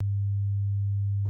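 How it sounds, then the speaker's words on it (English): Triangle-wave phase modulation synth tone from a Pure Data patch, here a smooth, nearly pure low steady tone sounding alone for just over a second before stopping. "This triangle wave phase modulation in contrast sounds like this."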